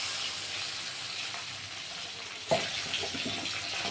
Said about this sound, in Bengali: ওই কষানো হয়ে গেছে, এবার আমি জল দিয়ে দেবো।